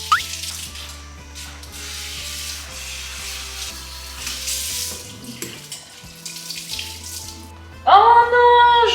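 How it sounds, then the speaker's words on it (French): Tap water runs into a kitchen sink while hair is being washed under the faucet, a steady splashing stream over low background music, ending in a louder burst of spray near the end. "je me lave les cheveux dans l'évier"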